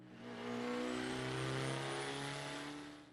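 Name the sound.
Detroit Diesel Series 71 two-stroke engine howling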